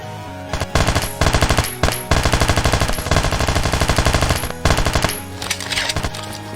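Rapid automatic gunfire from the 2013 FPS Creator shooter Kshatriya: Prologue, loud and close, firing in sustained bursts with brief pauses between them and no talk over it.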